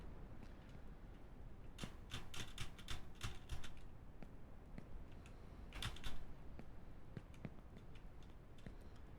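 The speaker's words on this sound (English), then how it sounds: "You guys are also bound to hear my keyboard a lot for this one." Keys clatter on a computer keyboard in quick bursts of clicks, with a dense cluster early and another flurry near the middle, fairly quiet and close against a low room hum, no talking.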